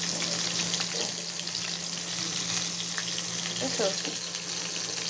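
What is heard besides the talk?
liver fritters frying in oil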